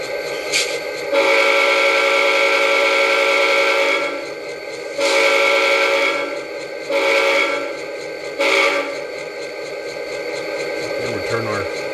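Athearn GP40 model locomotive running a DCC sound decoder in stock configuration: a steady diesel idle hum broken by four loud multi-tone horn blasts of varied length, with a brief clank near the end.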